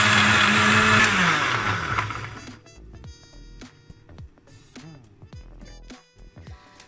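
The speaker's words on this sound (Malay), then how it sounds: "Okey, dan kita blend." A kitchen blender whirs loudly as it purees garlic with water for about two seconds, then winds down and stops, followed by scattered small clicks and knocks.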